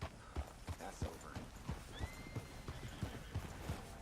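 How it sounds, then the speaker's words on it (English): A horse on a steady walk, hooves clip-clopping in an even rhythm of distinct close thuds, with a faint whinny midway over a soft outdoor background. "Ain't often you see a horse like that"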